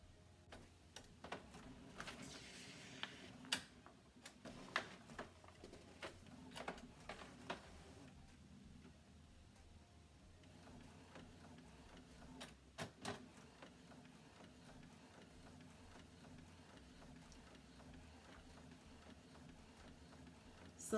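A sublimation printer slowly feeds an A3 sheet, giving faint irregular clicks and ticks that cluster early and then thin out to sparse taps against a quiet room.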